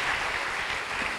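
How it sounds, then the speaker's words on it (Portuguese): A live audience claps for volunteers on stage at a hypnosis show, a steady wash of applause with no break across the short moment and no voices above it. "Uma salva de palmas para os nossos astros aqui"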